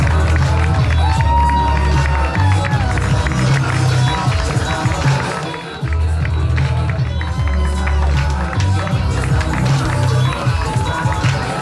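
Theatre cast clapping out of unison, with cheering, dense continuous applause and shouting from a crowd, loud and close, with heavy low thumps running underneath throughout.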